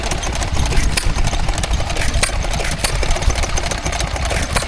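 A Monarch stationary engine runs a small water pump at a country show, idling loud and close with a steady, rapid chugging beat and faint mechanical knocks throughout.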